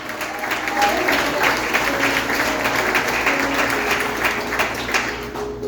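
A family church service congregation applauds, loud continuous clapping with voices and cheers mingled in, lasting several seconds.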